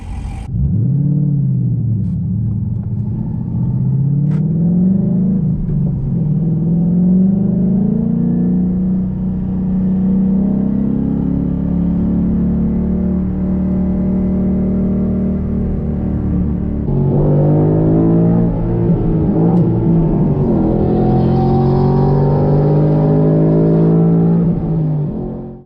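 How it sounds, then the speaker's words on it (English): A Corvette roars at full throttle on a NASCAR racetrack, its engine note climbing steadily to redline in second gear, then dropping briefly and rising again, loud and close throughout. "redlined in second, trying to go into third, and just hit the gate"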